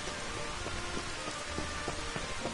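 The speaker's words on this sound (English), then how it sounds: "Oh, it's raining." Rain falling in the video game Final Fantasy XV, a steady hiss of rainfall with scattered drop patters, moderately quiet and continuous with no voices.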